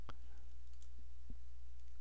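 A computer mouse clicks twice, sharp and close, about a second apart, over a steady low electrical hum while working in Photoshop Elements.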